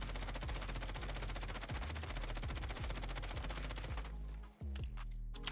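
Sustained full-auto fire from an M13 assault rifle in Warzone, a dense rapid stream of loud shots with a brief pause near the end before a second short burst.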